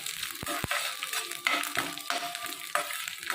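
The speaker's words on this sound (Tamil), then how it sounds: "அந்த பூண்டு நல்லா வதங்கி வரட்டும், வரமிளகா நல்லா வதங்கட்டும்" Garlic and dried red chillies sautéing in a pan, a close crackling sizzle broken by scraping stirs and sharp clicks of a spoon against the pan.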